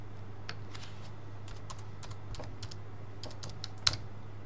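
Typing on a computer keyboard while entering a search filter: a run of light, irregular key clicks with one sharper tap near the end, quiet over a steady low hum.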